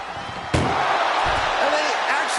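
A single heavy slam lands partway through as a wrestler is thrown into an ambulance in the WWE 2K25 video game, a sharp impact over continuous crowd roar and game noise.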